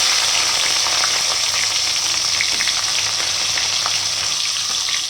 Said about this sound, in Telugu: ఇప్పుడైతే ఆనియన్స్ వేసుకుందామండి.